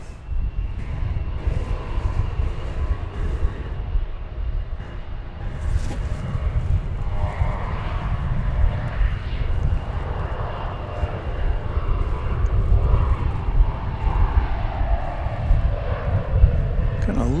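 An American Airlines Airbus A321 coming in to land at DFW Airport gives a continuous, fairly loud engine roar that swells and shifts gradually throughout, with a steady low rumble underneath.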